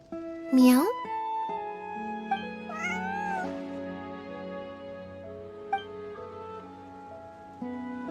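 Meowing from Bonnie the cat in Genshin Impact, a few clear, rising meows over a soft, sustained musical background, with short in-game voice lines between them.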